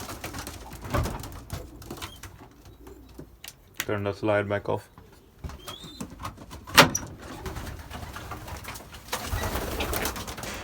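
Pigeons coo inside a loft, a soft burst of throaty cooing near the middle, with shuffling and small knocks around it and someone speaking briefly.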